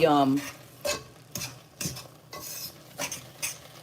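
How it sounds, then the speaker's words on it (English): A fork stirs and scrapes rice frying in a pan in a series of short bursts, with a faint sizzle of frying underneath. "You hear that sizzle? That's the rice trying to burn."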